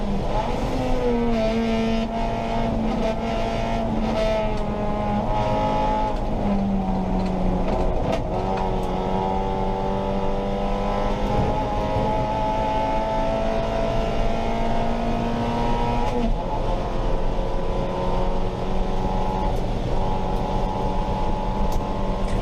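Race car engine loud and continuous through a championship race lap, steady droning harmonics rising and falling with revs and gear changes, close and unbroken, with no talking over it.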